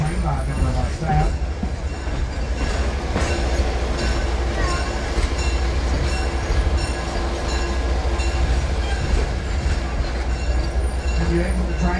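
The NC&STL 710 heritage steam train runs at the Tennessee Valley Railroad Museum, with a steady rumbling roll of railcars, rhythmic wheel clatter and occasional squeals heard close up.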